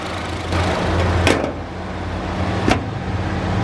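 A 2018 Honda Civic's 1.5-liter turbocharged four-cylinder idles with a steady low hum, broken by two brief sharp knocks, probably door or handling noises.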